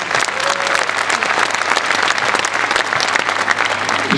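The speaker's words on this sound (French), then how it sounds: "Vous pouvez l'applaudir." An audience at a French political gathering applauds loudly and steadily, dense clapping from many hands filling the room throughout.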